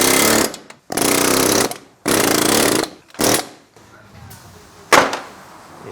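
A power tool hammers out a car wheel bearing in bursts of loud rapid pounding, four long runs and then a short hit after a quieter pause, close up and with no talking.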